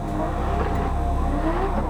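Race cars at full throttle on the Watkins Glen circuit during a GRIDLIFE Track Battle sprint, a loud, dense engine roar with shifting pitch and tire noise, close and continuous.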